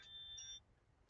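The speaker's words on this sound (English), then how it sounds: "that's my alarm to take my aspirin" A quiet electronic alarm set as a reminder to take aspirin gives a thin, steady high beep and then stops, leaving a faint low hum.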